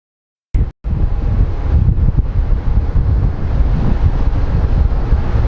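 Strong wind blasts across the microphone at Sky Harbor International Airport in Phoenix, a loud, continuous roaring buffet that starts abruptly after a brief silence and never lets up.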